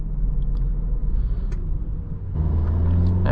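A 2013 Subaru Outback 2.5i with a boxer engine and CVT accelerates, heard from inside as a low grainy engine rumble that dips briefly and then swells louder with rising revs.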